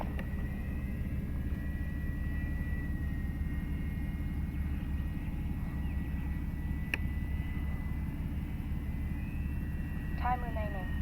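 Steady droning engine noise from an XFly Twin Otter twin-turboprop in a flight simulator, a constant loud hum with a brief click partway through.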